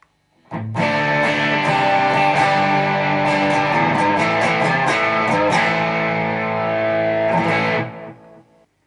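Loud electric guitar played through a TC Electronic Dark Matter Distortion pedal with all knobs at 12 o'clock, sustained chords and notes ringing continuously for about eight seconds, then fading out.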